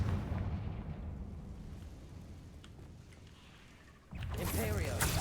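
A Confringo blasting spell in Hogwarts Legacy bursts into a loud explosive blast after a stretch of rumbling low noise, landing near and heavy.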